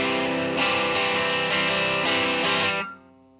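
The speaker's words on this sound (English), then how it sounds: "Right now, I'm at the point where I've got enough distortion without going overboard" An electric guitar through a moderate distortion effect strums sustained chords loudly with a few fresh strikes, then is cut off and rings briefly into quiet.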